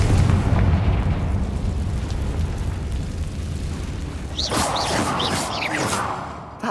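A Confringo fire spell explodes in Hogwarts Legacy, starting as a heavy rumbling boom that slowly fades, followed by a cluster of sharp crackling bursts near the end, with no voices.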